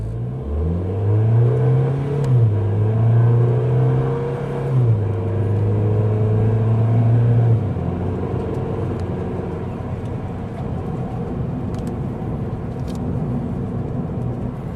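A car engine being broken in climbs through a long part-throttle pull, its tone rising and holding, then drops as the throttle closes and the engine spins down under engine braking, fading to a low steady drone.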